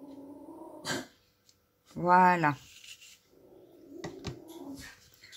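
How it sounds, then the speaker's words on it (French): A dog grumbles in a short, drawn-out, voiced moan at close range in a quiet indoor room, while someone speaks softly in French before and after it. "ma chienne qui râle"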